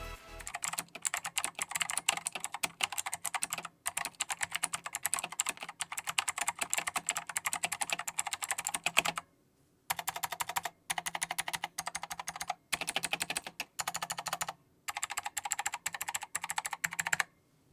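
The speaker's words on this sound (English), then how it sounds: "The optical blue switches are tactile and fast as ever." Rapid clicky typing on a Gamdias Hermes P2 mechanical keyboard with optical blue switches, steady bursts of keystrokes close up with a few brief pauses between runs.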